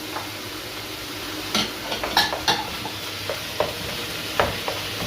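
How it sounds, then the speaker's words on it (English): Grated onion gets stirred into browning mince for moussaka, a steady sizzle with scattered close scrapes and clicks of the spoon against the pan. "we are going to add a whole grated onion. Mix that in there."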